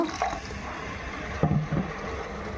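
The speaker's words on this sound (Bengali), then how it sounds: "পানি দিয়ে দেব" Water splashes and pours into a chicken (desi rooster) curry masala spiced with Kashmiri red chili powder, with a short close pour and a few soft splashes.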